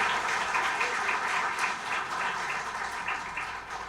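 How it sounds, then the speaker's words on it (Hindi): A concert audience at a ghazal evening in New Jersey applauds, a dense, sustained wash of many hands clapping that holds steady throughout with no talking. "मैं चाहूंगा कि आप सब अपने आप के लिए तालियां बजाएं"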